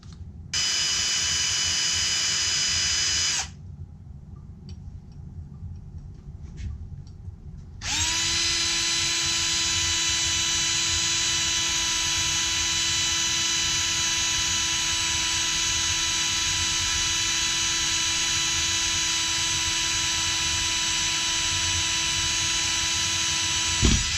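A power drill whines steadily as it bores through a bushing for a Kohler K Series small-engine starter, stopping briefly partway, then running again in a long, loud, even tone.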